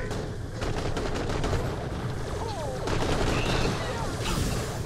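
Sustained rapid gunfire from the shooter video game Borderlands: The Pre-Sequel, loud and dense bursts filling the clip with booming impacts, played in co-op with voices faintly underneath.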